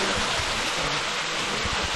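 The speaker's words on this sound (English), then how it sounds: "And a little waterfall here." A small waterfall in the palace grounds at Sintra, Portugal, pours in a steady, close, broadband rush of splashing water with no voices over it.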